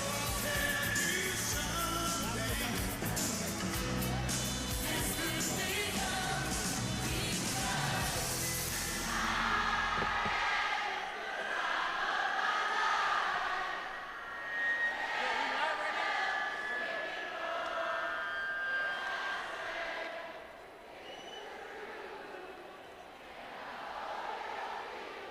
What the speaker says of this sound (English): And the first round of crowd sing-off goes to third base and left field side.